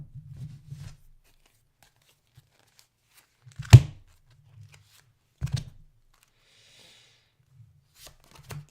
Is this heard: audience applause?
no